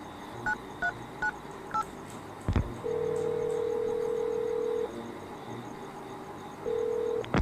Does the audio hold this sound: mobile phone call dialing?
yes